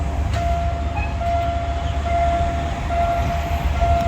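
Special rail inspection train, a locomotive hauling a track inspection car, rolling past near Hua Mak station in Bangkok with a constant loud low rumble and a thin steady tone above it, no voices.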